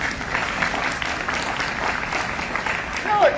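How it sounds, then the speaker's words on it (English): Audience at a city mayoral debate giving polite, moderate clapping that continues briefly, with a voice speaking over it near the end. "respectful claps afterward."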